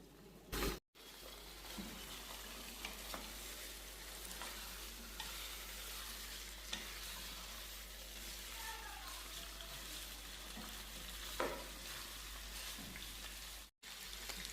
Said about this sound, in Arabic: هسه بنحط الدجاج على البصل بس يتذبل